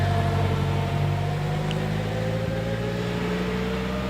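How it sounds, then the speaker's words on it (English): A vintage Type 40 Bugatti climbs the Prescott hill climb, its engine a steady, loud drone with harmonic tones that hold through the run, without distinct gear changes, close by and with no talk over it. "Vivian Bush in the Type 40 Bugatti, climbing as well"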